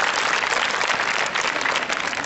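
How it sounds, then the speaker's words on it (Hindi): Dense, steady applause from a school audience at a science block inauguration at a girls' school in Chamba, filling the whole moment at close range with no break and no voice on top. "एक बार ऐसी तालियां बजाइए"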